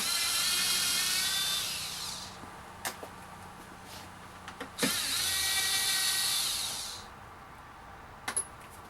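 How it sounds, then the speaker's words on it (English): Power driver backing out T20 Torx screws on a 2008 Jeep Grand Cherokee rear bumper cover: two loud, close whirring runs of a few seconds each, separated by small clicks and taps from handling, with no speech. "I'm going to remove these two Torx screws. It's a T20."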